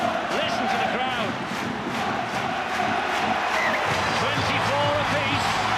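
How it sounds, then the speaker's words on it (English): A rugby league stadium crowd at a Warrington Wolves versus Leeds Rhinos play-off semi-final roars loudly and continuously, with shouts and whistles rising out of the dense cheering and voices mixed in. "Listen to the crowd."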